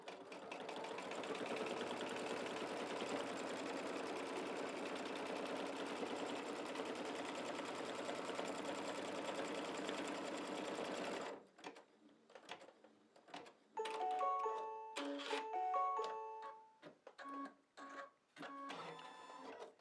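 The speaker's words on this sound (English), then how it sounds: "then I'm going to sew this seam" An embroidery sewing machine stitches a seam on an in-the-hoop mug rug, running loud and steady for about eleven seconds, then stopping into quieter scattered clicks and brief bursts of mechanical chatter.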